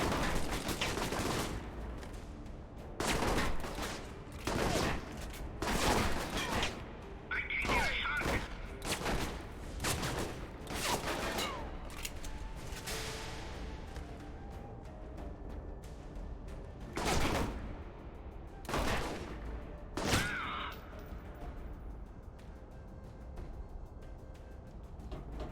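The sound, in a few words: gunfire in a video game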